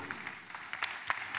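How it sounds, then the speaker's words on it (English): Church congregation clapping during a deliverance service, scattered claps rising in soft bursts over a steady room hum, moderately distant and fairly quiet. "Are you clapping for Jesus?"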